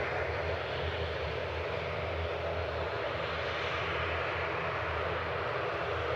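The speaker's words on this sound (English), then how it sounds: "Landing in the background behind this one will be Ryanair from Oslo, 737-800 GRUKA, flight 3227." A Ryanair Boeing 737-800 from Oslo landing at Manchester Airport gives a steady, broad jet roar that holds at an even, fairly loud level throughout, with no voices.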